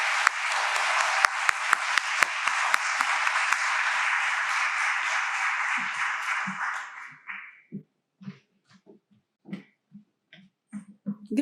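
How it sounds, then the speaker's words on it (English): Warm applause from a school Black History program audience greeting a student poet as she comes up, a loud continuous clapping crowd for about seven seconds, then cutting off to quiet footsteps and small shuffling sounds. "So let's give her a round of applause as she comes up."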